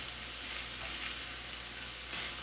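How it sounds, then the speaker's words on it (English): Diced red onion and other vegetables fry in a pan with a steady, even sizzle that runs throughout without any voices. "Now I'm going to just cook these through a bit, just till the vegetables are softened."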